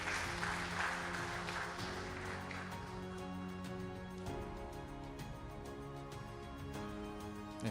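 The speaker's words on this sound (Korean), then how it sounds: "수상하신 두 분께 다시 한번 큰 박수 부탁드립니다." Sustained applause for two award recipients at a Korean construction workers' union anniversary ceremony, a dense, even clapping from an indoor crowd lasting throughout, with faint background music underneath.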